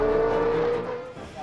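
A Red Bull V8 Formula 1 car driven by David Coulthard screams in a rising, high-pitched engine note while accelerating in a drag race, then the tone drops away as it recedes.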